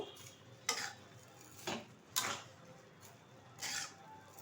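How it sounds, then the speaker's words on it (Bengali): A spoon stirs fried vermicelli into thickened milk in a pot, making four separate scraping, clinking strokes against the metal over a quiet background. "সিমুইটা কিন্তু ঢেলে দিয়েছি, এবার একটু নেড়ে নেব।"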